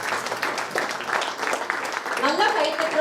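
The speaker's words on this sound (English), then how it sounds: "Requesting all to kindly clap." Audience clapping fills the room at a business chapter launch event in Coimbatore, moderately loud and continuous, with a voice speaking over it toward the end.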